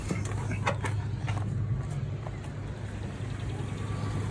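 An Oldsmobile Cutlass engine running just after starting, a steady low rumbling idle with a few faint clunks on top, close and continuous with no talk.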